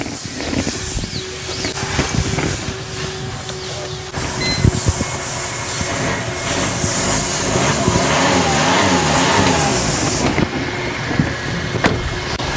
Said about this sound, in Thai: ไหนๆเปิดฝากระโปรงแล้วขอสตาร์ทฟังเสียงเครื่องหน่อยนะครับว่าเสียงเพราะไหมนะครับ